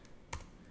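A single soft click of a computer keyboard key, brief and faint against quiet room tone, with a couple of even fainter taps around it.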